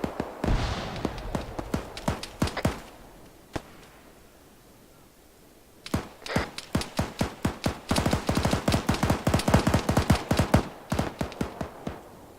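Gunfire in the military video game Arma 3 during a marine patrol: irregular single shots and short bursts, a quiet gap near the middle, then a long stretch of rapid, sharp reports, fairly close and with no talk.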